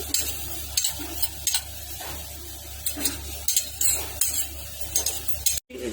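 Sesame seeds fry in a pan for gongura, giving a steady hiss with repeated rhythmic scraping stirs and light metallic clinks, close and fairly loud.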